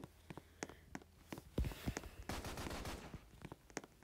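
Gunfire in a video game as a player shoots at a cop, with scattered sharp shots and a dense fusillade in the middle over low, thudding footsteps.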